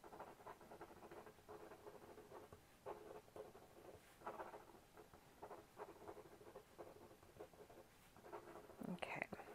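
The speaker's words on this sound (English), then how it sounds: "So I am just going to like do some faux writing." A pen scratches out quick faux script on paper in soft, close, rhythmic strokes, very faint, with a brief louder rustle at the end.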